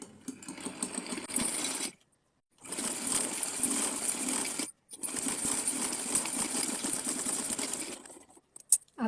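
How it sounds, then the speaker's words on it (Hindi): A sewing machine runs in steady rapid bursts while stitching a small summer dress for a Laddu Gopal idol, stopping briefly twice between runs, heard close and alone. "तो चलिए इसको भी सिलती हूँ मैं।"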